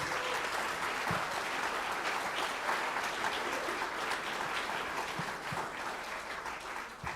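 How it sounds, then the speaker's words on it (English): A school band spring concert audience gives a round of applause, a dense continuous clapping from a large crowd with a few sharper nearby claps standing out, steady and fairly loud throughout. "So let's give a round of applause to all of these."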